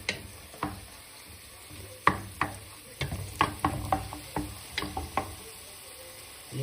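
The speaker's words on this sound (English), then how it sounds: "I'm just gonna quickly saute this thing, this gravy and green pepper." Gravy and green pepper sautéing in hot oil in a pan, a low sizzle broken by frequent sharp scrapes and clacks of a utensil stirring, close by and irregular.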